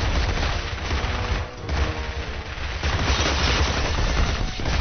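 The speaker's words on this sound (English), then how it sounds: "the player's shooting the hell out of some shelves" Dense, continuous gunfire fills a shooter-game firefight in Area 51: Blacksite as the player sprays bullets into store shelves at a gas station, loud and sustained for the whole stretch with barely a pause and no voices.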